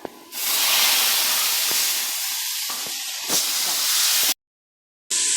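A pressure cooker vents steam in a loud, steady hiss that swells and holds for several seconds, broken by a few clicks, then cuts off briefly before resuming.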